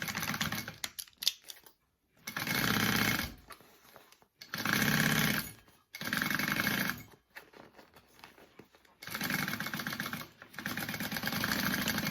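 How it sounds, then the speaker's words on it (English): A sewing machine stitching a garment lining runs in five loud, close bursts of rapid whirring and needle clatter, each lasting a second or two, separated by brief quiet pauses with faint handling noises and no speech. "Now we want to sew our lining up first, and then we'll sew our pocket up."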